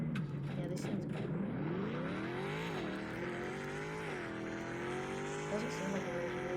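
A Rolls-Royce engine in the video game CDT drones steadily throughout, its pitch rising and falling through several gear-like sweeps with a faint tire-squeal edge, loud and continuous with no talk.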